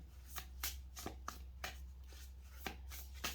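A deck of tarot-style cards is shuffled in a quiet room, giving soft, crisp riffles and taps that repeat at an irregular pace. They sound close but faint, with no talking.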